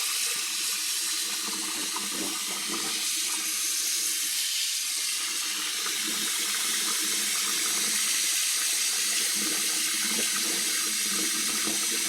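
Water runs steadily from a household tap, probably into a sink being filled, a continuous broad rushing splash that carries on unbroken and fairly close throughout, with no talking.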